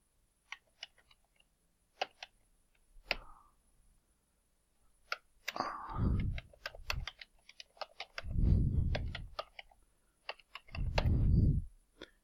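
Quiet computer keyboard keys tap in scattered short bursts and single clicks as login details are entered, with a few soft thuds and rustles between strokes.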